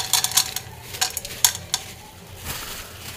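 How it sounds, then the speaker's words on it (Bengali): Corn kernels drop into hot oil in a pan for popcorn, raising brief scraping clatters and a soft sizzle that rises in short bursts and then settles. "এবার এ তেলের ভিতরে আমি ভুট্টা দিয়ে দেব"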